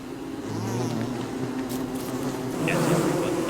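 Swarm of bees buzzing steadily from a beehive set on fire in a video game, a continuous droning hum held at a fairly even level throughout.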